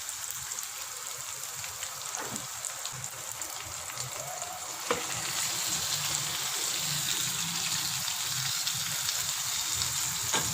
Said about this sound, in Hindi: इसको 3 से 4 मिनट के लिए अच्छी तरह से भून लेंगे